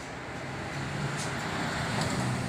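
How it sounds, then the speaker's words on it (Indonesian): Steady road traffic on a busy main road in Klaten passes close by, motorbikes and trucks blending into a continuous rushing roar that swells slightly midway. "Banyak lalu lalang motor maupun truk."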